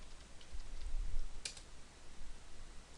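Typing a password on a computer keyboard, a handful of soft, quiet key taps and one sharper click against a low hum, with no talking.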